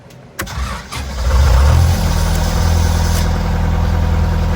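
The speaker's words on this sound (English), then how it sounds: "I'm going to engage the starter." A generator's starter engages with a sharp mechanical clunk, and the engine cranks, catches and rises into a loud, steady mid-pitched running drone that holds close and even to the end.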